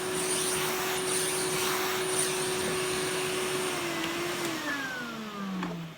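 A Numatic vacuum cleaner runs steadily with a loud, even motor whine and airflow hiss, then its pitch shifts and slides near the end as the suction changes.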